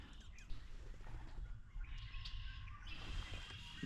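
Wild birds call and chirp along the Black River, several faint, scattered tweets and short whistles set over a steady low outdoor rumble, with no talking.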